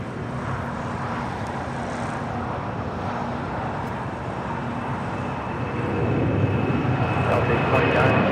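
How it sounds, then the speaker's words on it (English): A Boeing 767 rolls down runway 25 right at LAX with a steady, broad engine roar that swells louder toward the end, while radio voices talk over it. "767 now rolling down, 25 right."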